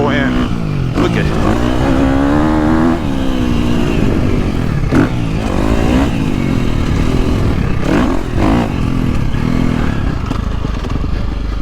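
A 2023 KTM 350 SXF motocross bike ridden hard, its engine loud and close, rising and falling in pitch through repeated revs and gear changes with clattering and scraping from the track.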